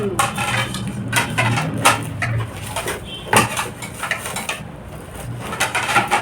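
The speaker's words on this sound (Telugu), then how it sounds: "మనం గిన్నెలు అవన్నీ వాష్ చేసుకున్న వెంటనే ఇందులో పెట్టుకుంటే త్వరగా డ్రై అయిపోతాయి అన్నమాట" Washed kitchen vessels set into a dish drying rack, giving a series of light clinks and knocks of metal and plastic at irregular intervals, fairly close, alone.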